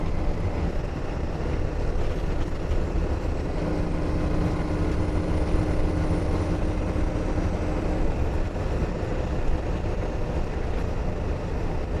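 A 2021 Newmar Canyon Star 3927 front-engine diesel motorhome cruising in sixth gear, a steady low drone of engine and road noise with a faint whine, constant and even throughout, no talking.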